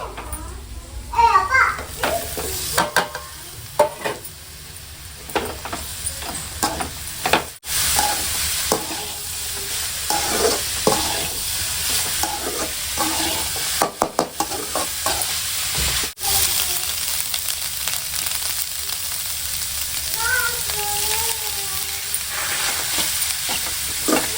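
Goat blood stir-fry cooking with onions in a pan, giving a loud, continuous sizzle with stirring scrapes, while children's voices chatter and play in the background.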